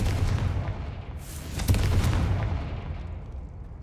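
A Confringo spell goes off in Hogwarts Legacy as a deep, rumbling blast with a sharp crack near the middle, then a long fading roar.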